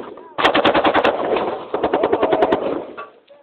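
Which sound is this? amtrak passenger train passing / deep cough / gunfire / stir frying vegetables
gunfire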